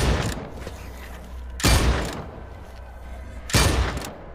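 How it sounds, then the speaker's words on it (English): Two gunshots in Dead Island 2, spaced about two seconds apart, each a loud, close, booming blast with a short decaying tail over a low, steady game ambience. "Two shots"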